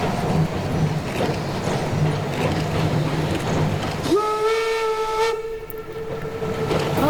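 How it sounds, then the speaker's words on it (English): Rumbling railway carriages roll along, then a steam train whistle sounds a sustained, steady shrill tone for about three seconds over the clatter before fading. "When have I never noticed that whistle?"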